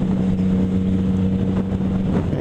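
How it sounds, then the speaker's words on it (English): A Yamaha FZ-09 motorcycle ridden along a coastal road gives a steady, loud engine drone with a constant low hum and wind rush throughout, no speech. "And just a nice motorcycle."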